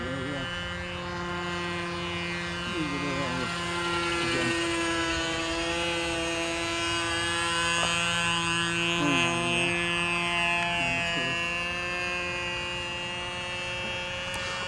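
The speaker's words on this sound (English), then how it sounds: "gonna come in for a landing now while it's still in one piece." A small model autogyro on its maiden flight gives a steady, droning propeller whine that holds for the whole stretch with slight pitch wobbles, while people talk faintly in the background.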